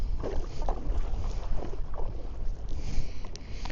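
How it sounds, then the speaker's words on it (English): Gusty wind of about 10 mph buffets the microphone while whitecapped lake water slaps and splashes around a kayak on Atlin Lake, British Columbia, loud and constant throughout. "Just wanted to show you how well the kayak handles in rough water."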